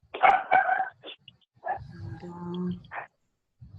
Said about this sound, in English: We all love dogs barking.